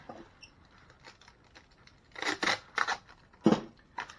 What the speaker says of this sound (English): Take a piece of tape, and I would just tape that on like so, and you can tape the corners up